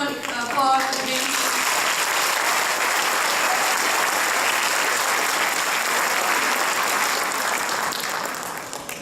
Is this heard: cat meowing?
no